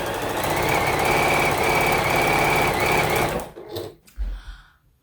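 A sewing machine with a joining presser foot runs a long continuous seam on quilt binding, a loud close mechanical whir with steady rapid stitching rhythm that stops, followed by a few brief handling clunks.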